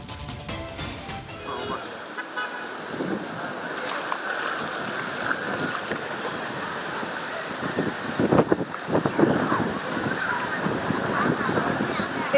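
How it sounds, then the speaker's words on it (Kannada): Floodwaters of the Ghataprabha River surge through fields and roads in rainy-season flood, a steady broad roar of rushing water filling the whole stretch, with bursts of louder turbulence midway. "ಘಟಪ್ರಭಾ ರೌದ್ರಾವತಾರ ಎಷ್ಟು ಮಟ್ಟಿಗಿದೆ ಅಂತಂದ್ರೆ ಹೊಲ, ಮನೆ, ಅಂಗಡಿ ಮುಂಗಟ್ಟು ಯಾವುದು ಬಿಡ್ತಿರೋ ಹಾಗೆ ತುಂಬಿ ಹರಿತಾ ಇದೆ"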